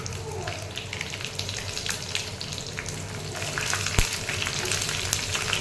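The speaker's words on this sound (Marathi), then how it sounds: "आता गॅस बारीक केला आहे मी त्याच्यामध्ये कढीपत्ता टाकेल" Curry leaves and green chilli sizzle steadily in hot tempering oil for a dhokla, a close, continuous crackling hiss with a brief sharper pop near the end.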